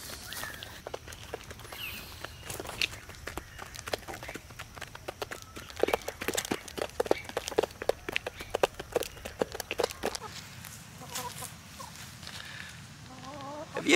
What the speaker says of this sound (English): You're funny chicken.